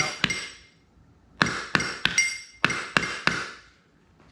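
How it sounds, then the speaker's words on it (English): A metal hammer taps metal locking pieces into an astromech droid center leg, sharp ringing clinks in a quick series of blows after a single early strike, close and clear. "for the sake of the tutorial, I'm going to use the metal hammer."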